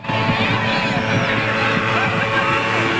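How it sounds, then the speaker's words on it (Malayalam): Strong wind buffets the microphone in a constant low roar while a person talks over it, on the Alappuzha backwaters. "ഭയങ്കര കാറ്റെന്ന് പറഞ്ഞാൽ ഭയങ്കര കാറ്റാണ്"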